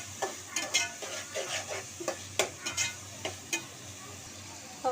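Salted dried fish frying in oil in a pan for a fish curry, with a steady sizzle under rhythmic, close scraping and clinking of a spoon stirring every half second or so.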